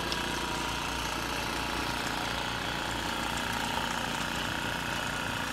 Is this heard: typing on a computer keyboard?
no